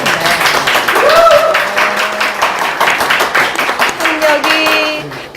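Hand clapping at a talk show, scattered claps sounding over and around people talking close by.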